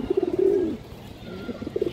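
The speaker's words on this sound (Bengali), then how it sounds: "এ দেখেন কবুতর" Khaki pigeons give a close, clear burst of throaty cooing that swells into a long rolling note, then fades and returns in quicker pulsing coos.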